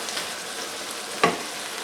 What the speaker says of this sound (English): So we put about 2 tablespoons of soy sauce in. Stir that around.